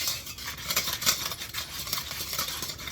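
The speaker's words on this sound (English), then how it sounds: "I'm just gonna switch to a whisk, which is a little better than a spatula." A whisk scrapes and taps quickly around a pan of thickening sauce, giving a busy, continuous metallic swishing with a soft sizzle beneath, close and moderately quiet.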